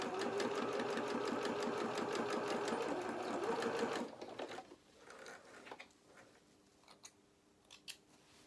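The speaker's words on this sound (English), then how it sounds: "we're sewing these shoulder seams for the outer," Sewing machine stitching the shoulder seams of an outer waistcoat for a doll; loud steady rapid stitching runs for about four seconds, then stops, leaving faint handling clicks and rustles.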